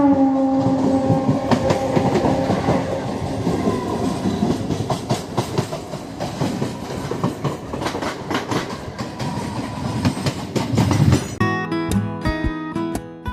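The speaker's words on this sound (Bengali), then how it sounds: "হাওড়া তারকেশ্বর লোকালে আমরা উঠে পড়লাম।" A Howrah–Tarakeswar local train runs on the rails, loud rhythmic clickety-clack of wheels over joints with steady rumble, a brief tonal horn-like sound early on and a sharper rattling burst near the end.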